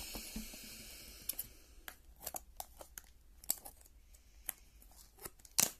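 A few crisp scissor snips with pauses between them, cutting open a plastic trading card booster pack, with crinkling and tearing at close range.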